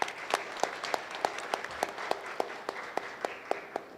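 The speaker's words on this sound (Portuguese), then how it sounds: "por favor, Ana Carolina, uma salva de palmas" A small audience at a scientific initiation congress gives a short round of applause, with distinct, fairly sparse claps at a steady pace, moderately distant and fading slightly.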